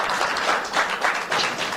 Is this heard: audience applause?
yes